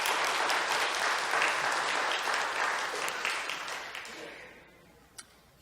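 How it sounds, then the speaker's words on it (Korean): A church congregation claps during a Korean worship service, giving a sustained wash of dense applause that fades out near the end, leaving near silence with a single sharp click. "우리 하나님께 한번 박수를 올리십시다."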